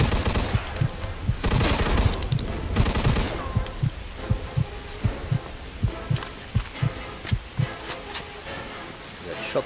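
Thompson M1A1 submachine guns firing in a 1940s-era shootout in Mafia 2, with loud repeated bursts and rapid regular shots running through the clip, mixed with chaotic game action.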